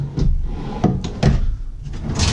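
Large drawers in the kitchen of a 2017 Winnebago Minnie Plus 27BHS bunkhouse travel trailer sliding and thumping shut, several sharp close knocks spaced irregularly, loud and near with no talking.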